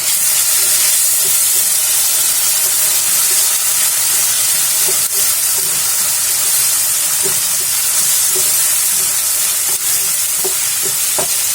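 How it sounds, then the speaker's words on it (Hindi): Ginger garlic paste fries in a pan with a loud, continuous hissing sizzle and faint occasional stirring clicks, unbroken for about eleven seconds. "अदरक लहसुन का पेस्ट डालेंगे। इसे भी हम भून लेंगे।"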